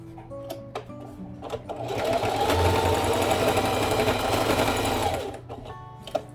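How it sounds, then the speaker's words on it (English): Sewing machine top-stitching along the top edge of a coffin wallet, a steady loud mechanical whir running about three seconds between brief softer starts and stops, with faint handling noises around it. "I'm gonna do that before I go ahead and top stitch along the top"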